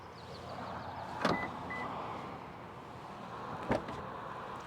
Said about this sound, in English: Those pop-out door handles